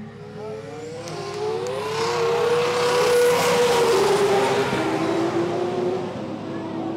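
An 1800-horsepower Nissan R34 GTR at a racetrack revs hard and races, its engine note rising and sweeping in pitch as it accelerates loudly, with faint voices in the background.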